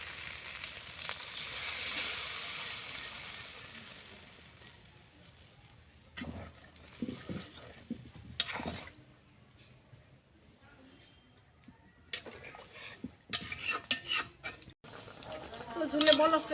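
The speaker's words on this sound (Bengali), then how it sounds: "এখন আমি ঝোল দিয়ে দেবো।" Eggplant sizzles and fries in a village kitchen pan as broth is poured in, the hiss swelling early and then giving way to splashing, stirring and scattered clinks, with someone talking over parts of it.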